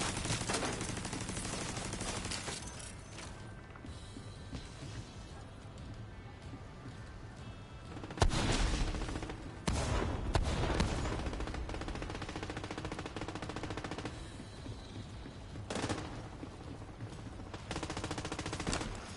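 Bursts of gunfire in The Division 2 on PS5, with rapid automatic volleys and scattered single shots, some loud and close, others fainter, with quieter gaps between bursts.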